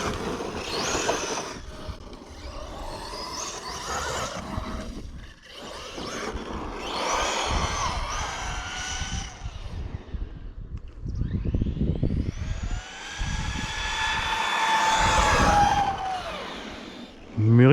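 A Ming Yang Black Panther RC car with a 1700kv electric motor on 6S power whines and revs in rising, falling bursts, with loud accelerating sweeps and rough ground noise near and far.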